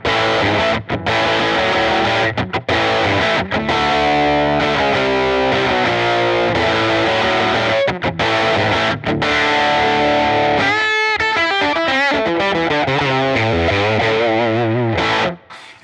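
Electric guitar played through a Line 6 Helix modelling a Supro S6616 amp at a moderate, crunchy gain, with neck and middle pickups. Loud, continuous distorted chords and ringing notes fill the whole stretch with no talking.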